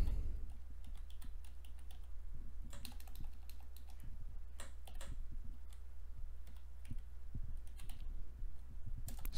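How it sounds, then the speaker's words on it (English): Typing a command into PowerShell on a computer keyboard, a steady run of close, light key clicks with brief pauses over a low constant hum. "So what we're going to do here is type in rep admin."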